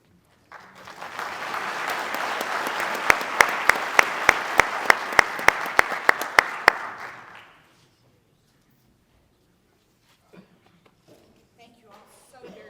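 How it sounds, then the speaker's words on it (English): An audience at a veterans winter stand-down bursts into a big round of applause that swells quickly, holds steady for several seconds with sharp individual claps standing out, then fades to quiet with a few faint sounds afterward. "one big round of applause"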